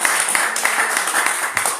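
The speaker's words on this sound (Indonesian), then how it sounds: "Ayo beri tepuk tangan bagi Tuhan Yesus" A church congregation claps in praise of Jesus during a sermon, a short burst of dense, close applause with a few sharper individual claps standing out.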